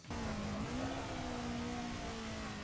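A car engine in Assetto Corsa drops pitch on a downshift under braking and then holds a steady, loud drone with tire hiss, close and continuous.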